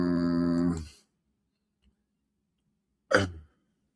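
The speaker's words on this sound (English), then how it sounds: "Y'all got these hiccups so bad they kicking my..." Two separate, sharp throaty hiccups about three seconds apart, loud and close, with near silence in between.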